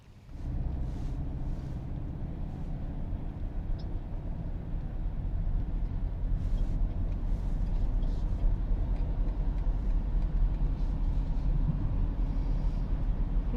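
Steady low road rumble and tire noise from a car pulling onto a highway, with an e-bike rack carrying two bikes on the vehicle ahead, rising slightly after a quiet start and continuing evenly with no talk.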